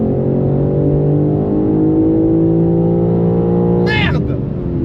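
A BMW car engine pulls hard and accelerates with a loud, steady, rising drone heard from inside the car, before a brief sharp change near the end.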